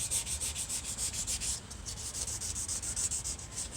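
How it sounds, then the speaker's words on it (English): Hand block sanding on a motorcycle crankcase with sandpaper: a steady, close scraping rub in quick repeated back-and-forth strokes, with one brief pause partway through. "You see me blocking that in by hand"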